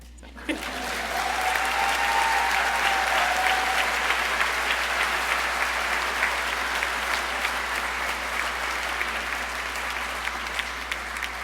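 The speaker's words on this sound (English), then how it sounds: "Please join me in a round of applause" A round of applause from the audience at a 2024 university welcome ceremony, dense and sustained clapping from a large crowd filling a hall, steady throughout with a faint low hum beneath.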